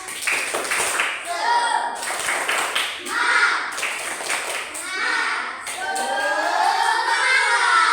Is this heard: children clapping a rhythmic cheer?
yes